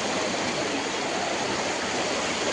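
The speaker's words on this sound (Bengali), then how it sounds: "বন্ধুরা জলের স্পিড কইতাম কিতা মানে কইবার মতো নাই" Fast-flowing floodwater rushing during the 2025 Hailakandi flood in Assam, a steady loud broadband roar of churning water that holds constant and close throughout, with no voices.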